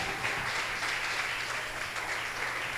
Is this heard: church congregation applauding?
yes